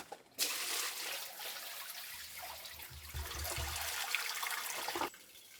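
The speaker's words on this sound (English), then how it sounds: "check out how the water flows" Water flows down a stone wall into a drain, a steady rushing trickle that starts abruptly, holds for several seconds with a low gurgle midway, and cuts off sharply; no voices.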